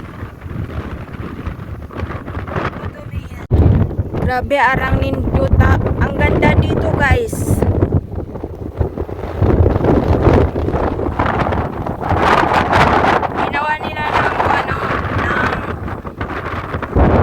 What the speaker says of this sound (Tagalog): Sugag hangin oy.